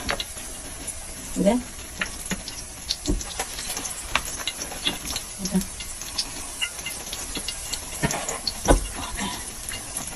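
Round kebabs frying in a pan for an Eid meal give an uneven hiss with scattered pops and crackles, while a voice is heard faintly at times.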